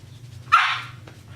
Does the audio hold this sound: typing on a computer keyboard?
no